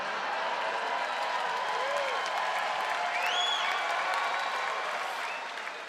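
Comedy club audience at a stand-up special applauds steadily, dense sustained clapping with some crowd noise and faint voices mixed in, fading slightly near the end.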